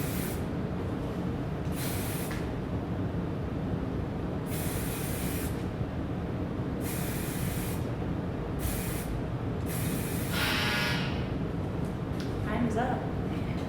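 Several separate bursts of spray hiss, each a second or two long, over a steady low background hum; one longer, stronger burst near the end.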